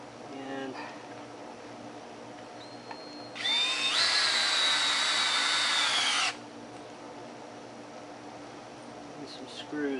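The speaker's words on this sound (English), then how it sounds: "get some screws in" A power drill drives screws into the wood of a homemade sawhorse. There is one rising, high whine lasting about three seconds mid-clip, with quiet workshop handling before and after.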